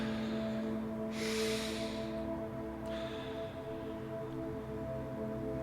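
Heavy breathing during meditation: a long loud inhale through the nose followed by a rushing exhale, then a second softer breath, over a constant low hum.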